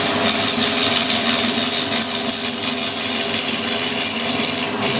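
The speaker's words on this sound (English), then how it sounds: "That's a classic example there, plain milling. That's conventional milling," A milling machine cuts plastic by conventional milling, with the cutter feeding against the direction of the cut, producing a loud, continuous, even rasping grind that holds steady throughout with no talking.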